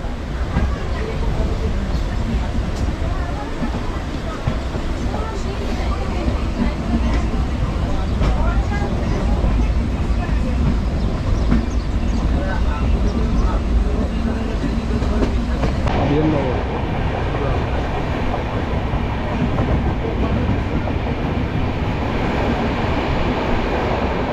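Padatik Express passenger train rolling between New Jalpaiguri and Sealdah, loud steady rumble with clattering wheels over track joints as it switches lines, continuous throughout with a shift in tone partway through.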